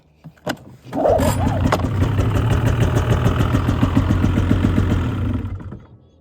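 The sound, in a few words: snowmobile engine running and backfiring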